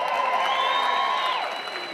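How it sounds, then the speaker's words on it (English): A comedy awards show audience, at the Comic Choice Awards 2014, cheers and applauds a comedian's introduction in a dense, loud wash of clapping and whoops, with a sustained tone gliding through it and the noise easing slightly toward the end. "A round of applause for Jack Harrow."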